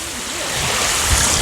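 Water pours from a sewage repair site into the sea at Arkadia on a frosty day, a steady broad rushing wash that swells slightly toward the end, close and continuous.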